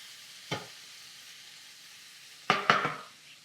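Shrimp sautéing in butter in a pan on a stovetop, quiet background hiss broken by a single scrape, then a cluster of clattering stirring knocks near the end.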